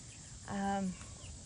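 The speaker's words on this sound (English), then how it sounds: "Those are their 3 chicks that she's raised." A single short cluck-like call from a hen raised with her three chicks sounds once, fairly close and clear, in an otherwise quiet moment.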